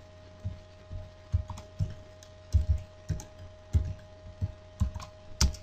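Clicky keystrokes on a computer keyboard, typed in short irregular bursts at close range on a Windows PC, with a steady faint electrical hum beneath and no talking.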